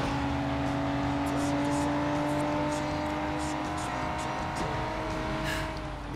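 In a car chase from the video game Sleeping Dogs, a car engine revs and roars continuously with tire noise, loud and close throughout.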